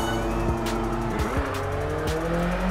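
A car in the Need for Speed: San Andreas racing game pulls away at a race start, its engine drone rising and shifting pitch, with brief tire squeals and a steady loud roar throughout.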